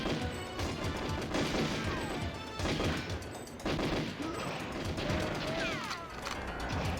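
The D5K submachine gun in GoldenEye 007 on Nintendo 64 fires in rapid, sustained bursts, close and dense, with short gaps, impact crashes and clanks scattered through the racket.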